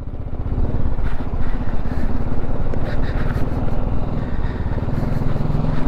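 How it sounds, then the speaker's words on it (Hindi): BMW G 310 GS motorcycle ridden off-road on rough mountain trails around Manang, Nepal, its engine droning steadily and loudly at close range throughout, with a continuous low rumble and no talk. "मैं चलो अपना बाइक लेके आ गया ये पैचेस कवर करने, ये ऑफ रोड कवर करने"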